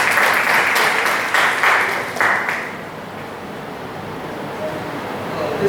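Applause for a quiz team at a school quiz competition, a burst of dense crowd clapping that rises and fades over about three seconds, leaving quiet room noise behind.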